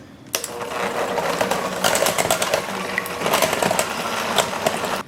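An electric hand mixer blends canned pumpkin with three room-temperature eggs in a bowl, starting abruptly and whirring steadily at close range with a slight change in pitch midway, then cutting off.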